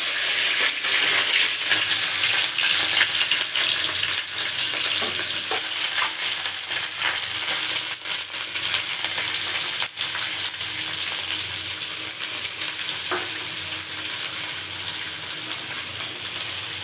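Vegetables going into hot oil in a pan for egg chow mein, a loud dense hiss of frying that stays close and continuous, with occasional stirring knocks.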